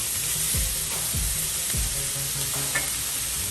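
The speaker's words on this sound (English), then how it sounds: "Now we're going to go down with the rest in this frying pan here." Food sizzling and frying in a hot frying pan during Mexican-style home cooking, a steady close crackle with a few soft stirring scrapes and no talking.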